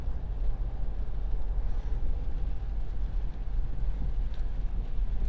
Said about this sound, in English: now it's really, really coming down rain-wise